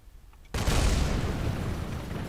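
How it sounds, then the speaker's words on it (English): In Kerbal Space Program, a spacecraft explodes on a planet approach with a sudden loud boom that turns into a sustained rumbling roar. "Lots of explosions."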